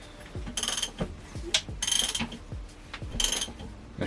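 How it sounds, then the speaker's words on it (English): An 18mm socket on a ratchet turns the crankshaft of a Ford Fiesta MK5 Zetec S engine. Rapid clicking comes in several short bursts, close and fairly quiet. "I'm just going to use a ratchet with an 18mm on the crankshaft just to spin it around."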